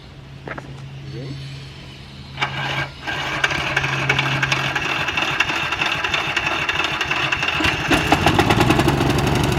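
A Tesla project car's engine is cranked and tried on start-up, a mid-pitched motor whirring and running steadily after a brief sputter, close by, with people chatting around it.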